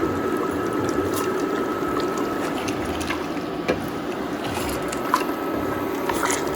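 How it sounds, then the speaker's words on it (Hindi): Chopped onions tipped into a pot for mutton korma, giving a steady wet squishing and sizzling wash that runs continuously, close and moderately loud. "तो ये सारी प्याज इसमें जाएगी।"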